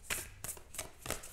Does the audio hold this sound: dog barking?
no